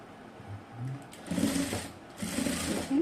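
Sewing machine running close up as it stitches lace onto a dress neckline, with short whirring bursts that swell into two longer steady runs separated by a brief pause.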